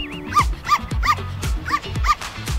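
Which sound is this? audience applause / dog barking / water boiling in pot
dog barking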